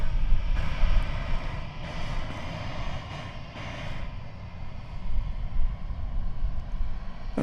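Airliner engine roar passing overhead, a broad rumbling whoosh that swells and eases as an American Airlines flight comes in to land at Dallas/Fort Worth Airport.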